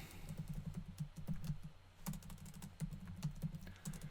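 Steady typing on a computer keyboard, close and clear, with quick irregular keystrokes running throughout and a brief pause midway; no voices.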